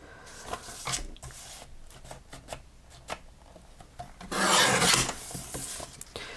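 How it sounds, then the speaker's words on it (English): Craft paper being trimmed to size with a paper trimmer, a series of short scraping rasps followed by one longer, louder slicing rub, close and without talk. "And I will trim it this way by 4 1/8."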